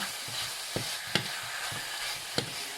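Pork stir-fried in a home kitchen pan: a steady sizzle with scraping spatula strokes and a few sharper clanks against the metal, close and continuous without talk.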